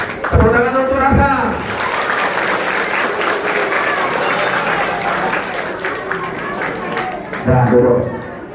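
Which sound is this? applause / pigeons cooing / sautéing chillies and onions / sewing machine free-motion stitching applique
applause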